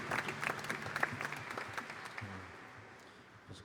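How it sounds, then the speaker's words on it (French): A congregation at a Holy Thursday mass in the Church of Saint Louis gives a brief burst of faint clapping that quickly thins and fades, with some murmuring voices. "Un applaudissement pour les encourager."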